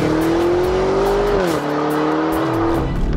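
A car engine roars loud and steady throughout, its pitch holding high then dropping sharply and climbing again as it revs, with a brief tire-squeal quality and no talk.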